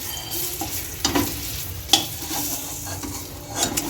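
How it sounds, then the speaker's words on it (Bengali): Fish fries in darkened oil with Maggi masala in a wok, a constant close sizzle with a few sharp scraping stirs and clinks of a spatula. "মাছ টাছগুলো ভাজবো তো ভাজছে একটু ম্যাগি মশলা দিয়ে ভাজছে"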